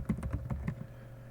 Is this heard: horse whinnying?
no